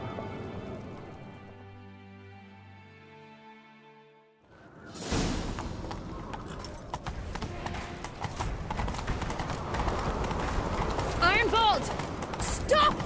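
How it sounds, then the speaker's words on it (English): A horse gallops in The Witcher III: Wild Hunt. Quiet music plays first, then a burst of hoofbeats starts, and fast, busy galloping continues with clattering tack, close and fairly loud. "Grab a horse, we'll chase him down."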